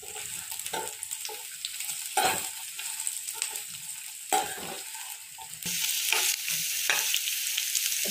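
Dried pork frying in oil in a pan with onions and whole green chilies, a loud, steady sizzle broken by repeated stirring scrapes and clatters, with no voices.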